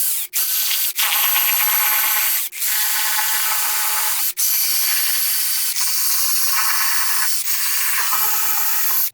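Lifter plate bolts come out of a Ford 300 inline six engine with a ratchet or power tool, a loud steady whirring buzz running in long bursts broken by short pauses.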